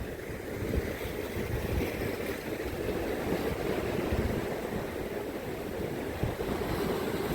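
Ocean waves roll and wash against the piers of a Tasmanian beach in winter, a constant close roar of surf mixed with wind buffeting the microphone, with no voices.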